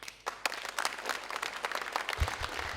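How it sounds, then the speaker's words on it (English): Applause in a secondary school debate hall for the final speaker, a brief burst of scattered, uneven claps from a modest crowd, moderately near and building quickly. "A round of applause for the final speaker of Lay Secondary, Kimson Kare Jr."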